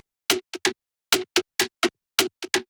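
Punchy gated-reverb percussion hits with big reverb tails that cut off abruptly, in a short repeating pattern of three-hit groups, loud and dry between hits.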